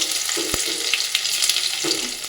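Dried red chillies, nigella seeds and chopped garlic crackle and sizzle in hot oil in a wok, a close, busy frying sound with sharp pops scattered over a steady hiss.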